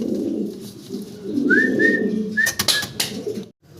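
Fancy Hungarian Budapest pigeons coo in low, rolling murmurs up close, joined briefly by a few thin whistling notes and sharp rustles before a short drop to near silence at the end.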